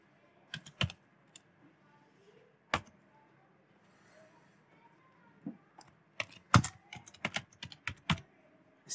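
Code typed on a computer keyboard, sharp clicks in scattered bursts that grow into a denser run toward the end, close up over a faint background hum.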